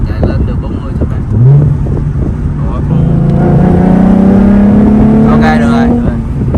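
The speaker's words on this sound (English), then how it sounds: "It's automatic rev by itself." Nissan 370Z engine idling up and revving on its own, a steady motor drone with a slowly rising pitch over several seconds, heard close with people talking over it.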